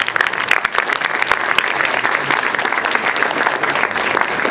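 Loud, sustained applause from a festival audience at a horror film event, dense clapping filling the whole stretch without a break.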